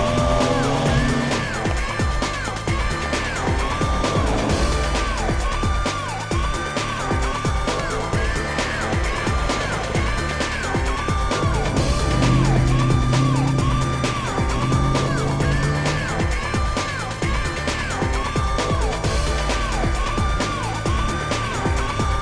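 Rally car driving fast on a wet forest road, its engine roaring continuously and loudly close by, with revs rising and falling and tyres hissing and sliding on the slick surface throughout.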